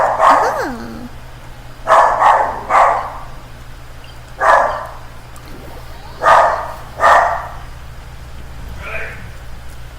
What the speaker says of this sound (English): My dog's barking too much.